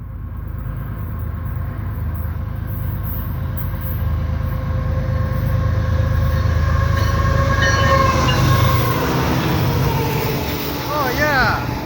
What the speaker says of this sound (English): Here comes a freight train.